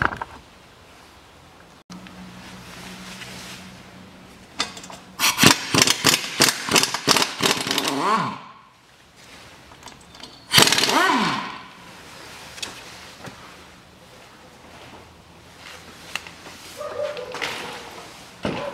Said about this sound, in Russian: Ну, а теперь откручиваю оба болта шаровой опоры.